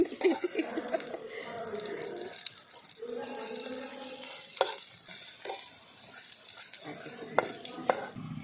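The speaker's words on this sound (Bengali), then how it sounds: "দেখুন বেগুনগুলোকে লাল লাল করে ভেজে দিয়েছি।" Brinjal pieces fry in a pan with a close, continuous sizzle and light stirring scrapes, while a voice talks quietly over the cooking.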